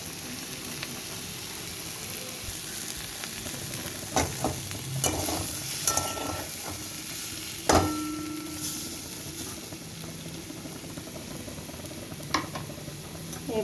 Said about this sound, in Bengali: এবার এগুলোকে একটু হালকা ভাজবো